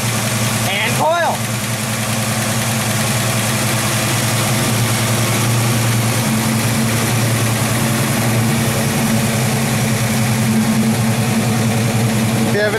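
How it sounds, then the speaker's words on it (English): A 1968 Ford Mustang coupe engine idles steadily and loudly from start to finish, a constant low drone with an alternator whirring beneath it, and a brief knock sounds near the start. "And we also have our alternator, as you can see, whirring away."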